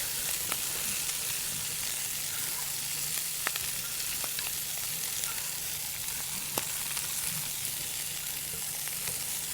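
Vegetables sweat in melted butter for a shellfish-free fish chowder, a soft steady sizzle with occasional faint clicks of stirring throughout, no voices.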